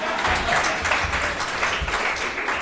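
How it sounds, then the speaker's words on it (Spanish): Congregation applauding for Gaby during a sermon, a short burst of dense, steady clapping from the crowd. "Denle un aplauso a la Gaby,"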